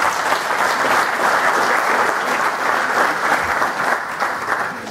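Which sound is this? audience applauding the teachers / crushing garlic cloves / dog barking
audience applauding the teachers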